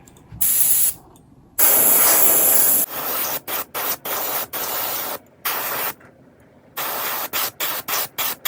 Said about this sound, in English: Time to spray.